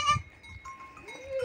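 A goat herd on a farm, with one goat giving a short bleat at the start, followed by quieter animal sounds and shuffling close by.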